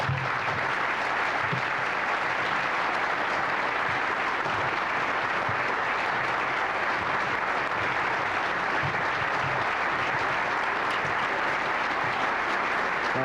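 Audience at a Lotus festival event at the Monterey Historics, Laguna Seca, giving Stirling Moss long, even applause, a continuous dense roar of clapping held steady throughout.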